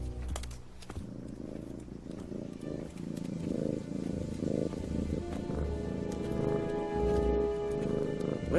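The cartoon donkey from Shrek 2 purrs like a cat in a voiced imitation: a low, rhythmic, rumbling purr that keeps going steadily, close and fairly soft, with no talking over it.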